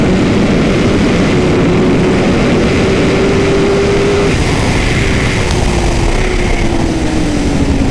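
A 2017 Honda CBR 1000 RR SP 192 hp sport motorcycle at full throttle on a racing circuit, a loud continuous engine roar with a rising and falling pitch as it passes close along a wall.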